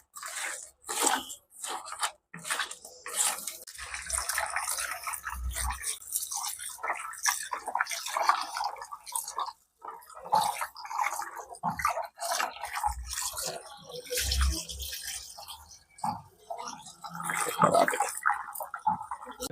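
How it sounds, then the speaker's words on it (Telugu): Fish being scrubbed by hand with rock salt under running water, giving gritty crunching and splashing scrapes in irregular bursts, close and fairly loud throughout. "నిమ్మకాయ లేదు, అందుకని ఓన్లీ కల్లుప్పు వేసి క్లీన్ చేస్తున్నాను."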